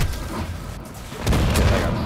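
A sniper rifle shot in the video game Call of Duty: Modern Warfare 2 lands as a sudden broad boom that swells the game mix and rumbles on briefly, loud and close.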